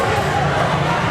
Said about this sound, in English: passionate atmosphere cheering on the Wolverines